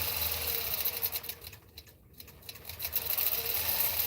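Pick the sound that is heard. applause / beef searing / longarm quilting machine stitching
longarm quilting machine stitching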